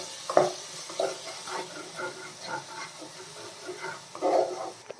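Spice mix of turmeric and garam masala being stirred in a pan for a mutton curry, soft scraping strokes with a faint sizzle, moderately quiet and repeated at a slow, uneven pace.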